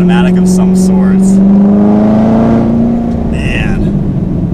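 A 2019 Chevrolet Corvette ZR1 with a manual gearbox pulls hard in second gear, its engine note rising steadily and loudly before easing off, heard close from the cabin with a voice briefly over it.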